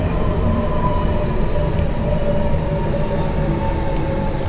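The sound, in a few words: London Underground train in Train Simulator 2019 video game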